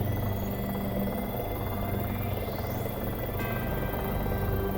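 Remote-controlled toy helicopter flying indoors, giving a steady, close buzzing whir of small rotors and motor that holds nearly constant for several seconds with no talking.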